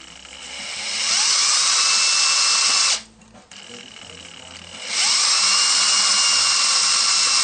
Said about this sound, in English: I'm going to go ahead and drill all these, and I'll be back when the drilling is done.